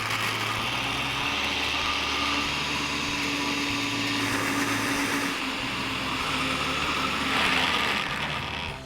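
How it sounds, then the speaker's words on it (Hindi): Blender grinding garlic dip with ice cubes, a steady loud whirring motor grind running the whole time with slight shifts in pitch and a swell near the end. "और इसे अब हम ग्राइंड करेंगे"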